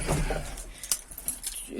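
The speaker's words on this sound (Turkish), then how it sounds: "anahtar cebimdeymiş buldum" Keys jingle and clink in short bursts, close and fairly quiet, with a voice speaking briefly at the start, before starting a Tümosan 8195 tractor.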